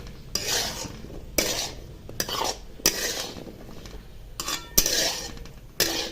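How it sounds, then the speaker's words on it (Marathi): Eggplant and dal vegetable being mixed in a pan, with a spoon scraping and clinking against the metal in several repeated strokes about once a second, close and clear, with a light sizzle underneath. "आता एक मिक्स करून झाकण ठेवून एक दोन ते तीन मिनटं शिजू द्यायचं"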